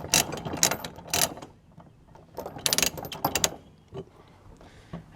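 A ratchet load binder tightens a chain tie-down securing a tractor on a trailer, giving several close, loud bursts of rapid ratcheting clicks separated by short pauses.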